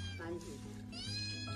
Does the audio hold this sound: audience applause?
no